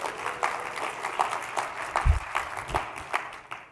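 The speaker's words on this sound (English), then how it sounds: "You just clapped for the IRS." An indoor conference audience claps for several seconds, a dense patter of hands with a few louder individual claps, fading slightly toward the end.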